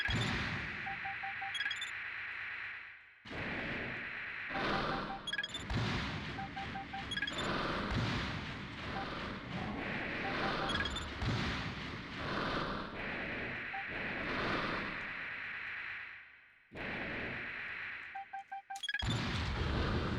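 Armored Core mech weapons test: repeated missile launches and explosions, loud, dense blasts in bursts separated by short gaps, with beeping lock-on tones and whirring machinery between volleys.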